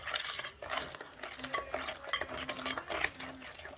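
Brownie batter made with brown butter is mixed by hand with a utensil in a bowl, giving busy, continuous close scraping and clinking strokes with an uneven rhythm.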